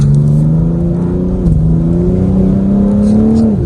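A car driven quickly over a rocky gravel road, its engine droning steadily and loud with a slight pitch rise, a brief dip midway, then climbing again before dropping at the end.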